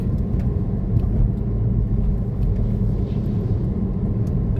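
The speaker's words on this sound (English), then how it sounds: "the buses heading to Burnie" A bus on a countryside road near Sulphur Creek, Tasmania, heading toward Burnie, passes with a low continuous engine rumble and road roar, fairly loud and steady throughout.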